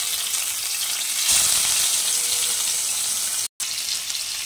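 Pieces of rui fish fry in hot oil in a kadai, a loud continuous close sizzle with a sharper burst of spattering as a piece drops in, then steady crackling, with one brief dropout near the end.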